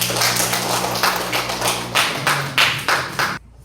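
A classroom group claps hands in a few loose bursts of rhythmic claps over a low hum, then the sound cuts off abruptly into silence.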